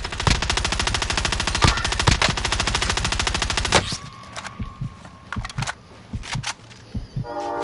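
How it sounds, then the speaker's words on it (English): Rapid automatic gunfire in the Warzone video game, a long loud burst of machine-gun fire followed by scattered single shots and clicks, with no speech. "I'm getting shot at!"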